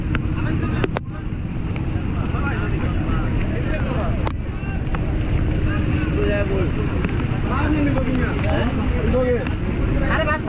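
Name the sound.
motorized trawler boat on a small river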